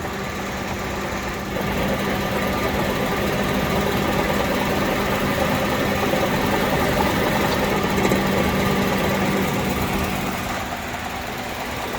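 A steady, low engine hum with a faint vibration runs unchanged throughout, a Honda Element idling nearby with no talk.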